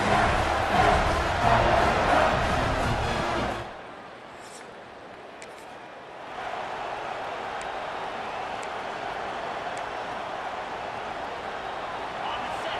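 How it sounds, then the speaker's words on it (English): Home stadium crowd roars in EA Sports College Football 26, a loud, sustained wash of cheering that dips briefly to a quieter murmur midway before swelling back to a steady din. "this home crowd is fired up and ready to make a difference today"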